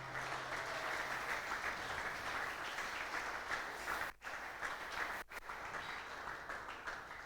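A church congregation applauding, a dense, continuous wash of many hands clapping at moderate distance, with two brief drops partway through.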